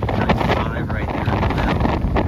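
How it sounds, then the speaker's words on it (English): Club 420 dinghy sailing slowly close-hauled during a race day, with strong wind buffeting the microphone and water rushing steadily alongside the hull, and a voice talking over it. "Just sailing close haul very slowly."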